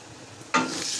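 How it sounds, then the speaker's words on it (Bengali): Turmeric and chili powder in a pot of Bengali goat meat bhuna stirred with a spoon, a sudden close scrape and hiss of frying that starts halfway through the brief moment and continues steadily. "একটু নেড়ে নেব।"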